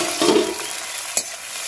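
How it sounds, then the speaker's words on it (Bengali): Shrimp frying hard in oil in a wok: a steady close sizzle with brief clatters of stirring early on and again near the end, no voices. "চিংড়ি মাছটা ভাজা হয়ে গেলে"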